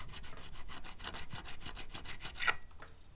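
A diamond fret crowning file rubs along a guitar fret in quick, even back-and-forth strokes, a close rhythmic rasping of about a dozen passes, ending with a faint metallic clink.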